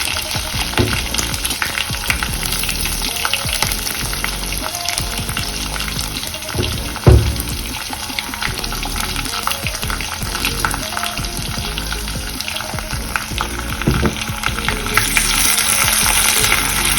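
Small shallots sizzle in hot oil in a clay pot with fenugreek and curry leaves, the base for a mackerel fish curry: a loud, close, continuous crackle of frying with occasional stirring clatter and no talk.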